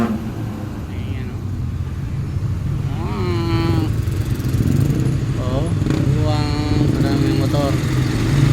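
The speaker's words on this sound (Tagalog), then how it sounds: "maraming motor." Many motorcycles move through busy road traffic near an intersection, a steady engine drone with revving and shifting tones rising and falling, while someone talks over the noise.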